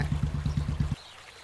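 Water running for a bath, heard as a rhythmic gushing pulse, close and fairly loud, that stops abruptly partway through, leaving near silence.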